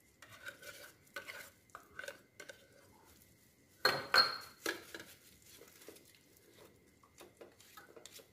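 Canned liver pâté mashed and stirred in a bowl, with scattered clinks and scrapes of a utensil against the dish and a louder cluster of knocks midway, close and fairly quiet with no talking.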